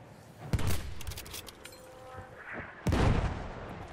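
Mortar fire in Battlefield 1, two heavy booming thumps a couple of seconds apart with rumbling decay, amid scattered distant battlefield noise.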